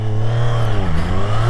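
Triumph Street Triple 765 RS motorcycle from 2023 revving hard in sport mode as the front wheel lifts into a wheelie, a loud close engine note that holds steady, then dips briefly and climbs again.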